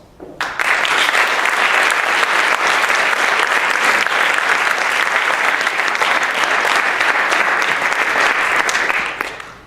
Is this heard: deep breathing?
no